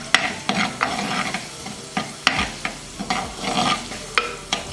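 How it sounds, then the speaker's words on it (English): Sliced ginger and chopped garlic sautéing in a pan, with a loud close sizzle and repeated sharp utensil scrapes and taps in an uneven rhythm, no voices. "This is about a tablespoon of sliced ginger, half a tablespoon of chopped garlic. Now we'll saute everything."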